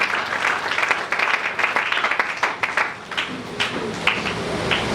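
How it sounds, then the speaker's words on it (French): A church congregation claps in steady, continuous applause throughout, dense and fairly close, with scattered louder individual claps standing out near the end. "Acclamons pour le Seigneur"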